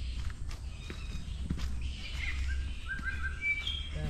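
Several birds chirp and call in short bursts over soft ambient forest noise on Magnetic Island, with occasional rustling steps nearby.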